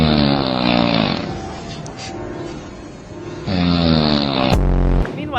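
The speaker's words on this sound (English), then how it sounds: "She snores in airplane mode." A person snores loudly in long, rasping, engine-like drones, with two heavy snore cycles separated by a quieter breath, heard close up.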